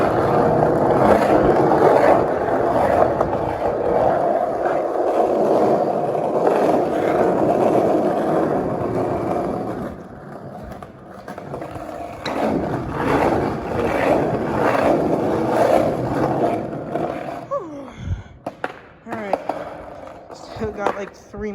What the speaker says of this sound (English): I'm just gonna skate down because it's fun